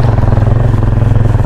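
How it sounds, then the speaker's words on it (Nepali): Motorcycle engine labouring as the bike struggles through deep mud on a rural village road, a steady close, throbbing low drone with no let-up. "हिलोमा त यो बाइक त कुद्दैन पो रहेछ"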